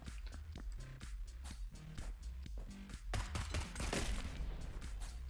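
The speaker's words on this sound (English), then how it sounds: "Let's go to the other side and shoot this from that side." Rapid bursts of gunfire from shooting in the video game Neon Abyss, a dense run of sharp repeated shots that grows louder and busier toward the end, with no talk over it.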